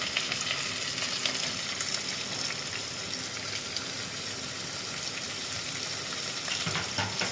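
Onions with curry leaves, green chilli and garlic sizzle steadily in hot oil in a pan, a continuous close frying crackle with light stirring throughout and no talk.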